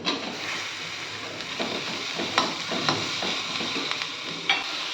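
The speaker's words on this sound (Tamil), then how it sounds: "ஒரு பெரிய வெங்காயத்தை கொஞ்சமாக எண்ணெய் ஊற்றி வதக்கிக்கலாம்" Onions sizzle steadily in hot oil in a pan, with occasional scraping clicks of a spoon stirring close by.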